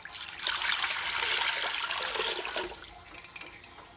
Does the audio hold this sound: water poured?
yes